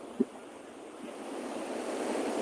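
Ocean waves washing in at a beach shore as the tide rises, a continuous broad rushing surge building steadily, with one brief thump near the start and wind noise on the microphone.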